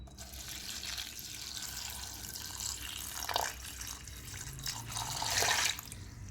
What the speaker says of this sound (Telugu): వాటర్ యాడ్ చేసుకుంటాను.